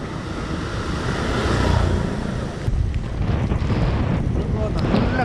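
Steady roaring wind buffets the microphone throughout, a broad rushing noise with no voices, from riding fast on an open motorbike at night on a Kerala highway.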